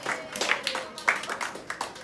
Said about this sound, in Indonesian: Yuk kita kasih tepuk tangan buat sahabat kita